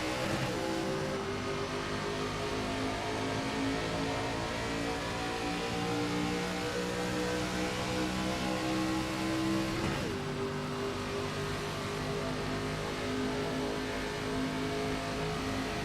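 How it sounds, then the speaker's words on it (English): Race cars in the NASCAR iRacing video game accelerate together off the start line in a 2003 Gatorade Twin qualifier at Daytona, engines droning loud and steady with layered revving that shifts pitch midway. "Okay, everyone got off the line pretty well."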